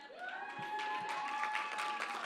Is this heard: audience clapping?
yes